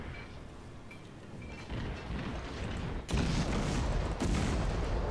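Naval guns firing in the online warship battle game World of Warships, a dense, booming barrage with sharp salvos near the three- and four-second marks over steady rumbling battle noise, with no talk.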